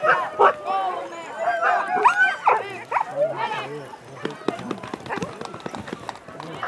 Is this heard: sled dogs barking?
yes